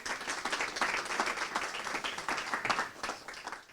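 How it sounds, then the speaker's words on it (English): Sustained audience applause at the launch of a financial literacy and wellbeing framework for schools, dense steady clapping from a crowd filling the room throughout, with no speech over it. "Round of applause, please."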